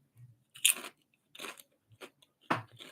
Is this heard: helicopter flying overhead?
no